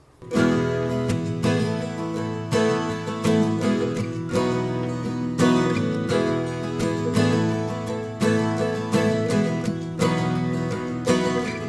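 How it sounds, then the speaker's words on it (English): Bright, shimmering Martin Backpacker acoustic guitar in Nashville tuning, strummed in a steady rhythm, with high, chiming tones ringing out close and clear, no voices. "I have a Martin backpacker that I keep tuned in Nashville tuning"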